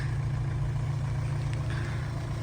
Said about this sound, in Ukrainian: Мотор робить дуже гарно, акуратно.